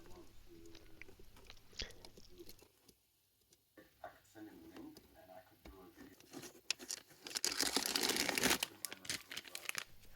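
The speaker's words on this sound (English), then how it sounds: "using a plastic bag to not scratch the dial when I'm taking off the hands" A plastic bag crinkles in close bursts while the hands are removed from a dial indicator clock in a workshop, growing loudest and densest toward the end.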